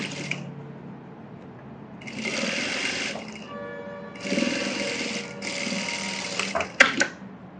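A sewing machine stitches a blouse in several fast, steady bursts of mechanical whirring separated by short pauses, ending with a few sharp clicks.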